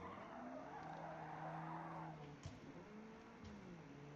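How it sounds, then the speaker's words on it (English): A small Opel Kadett in Forza Motorsport skids through a corner after the e-brake is pulled, tires squealing in long sliding tones over a steady engine drone, with a couple of brief knocks. "Down. Shift. E-brake."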